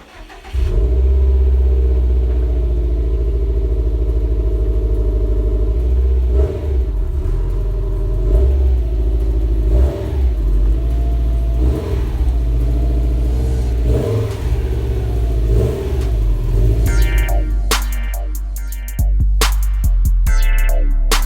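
A 2018 Subaru STI fitted with an Invidia R400 catback exhaust starts up and idles with a deep, close rumble, punctuated by repeated revs that swell and fade, ending in a sharper burst of mechanical noise.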